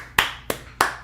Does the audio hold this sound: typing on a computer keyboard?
no